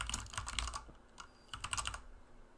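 Typing on a computer keyboard while entering event fields in a web application: two bursts of quick, fairly close key clicks separated by a short pause, with no talking.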